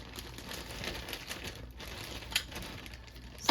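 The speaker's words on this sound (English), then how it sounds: "Get the bag open." Crinkly plastic bag handled and pulled open for small cut-out bear and kangaroo shapes, a steady rustle with a sharper crackle near the middle and a louder tear-like burst at the very end.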